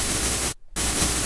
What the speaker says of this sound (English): let's turn this up, is it makes some nice white noise